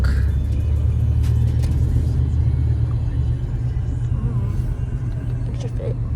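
Heavy road-vehicle rumble, a big truck driving by close, a steady low engine drone that holds throughout and eases slightly toward the end, with faint voices underneath.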